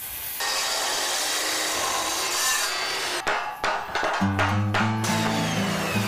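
Pieces being cut to an angle for a welded sculpture: a loud, steady sawing whine, then a rapid series of sharp cutting strokes and clanks, with a rising tonal hum near the end, no talk.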